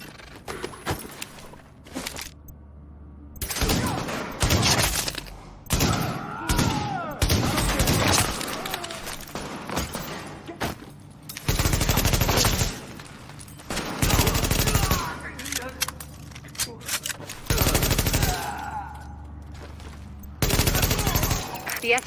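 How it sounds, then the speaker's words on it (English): Heavy automatic gunfire from a rooftop gunner in The Division video game comes in loud repeated bursts, separated by short quieter gaps with game sounds and thuds. "The escort party's taking heavy fire from the roof."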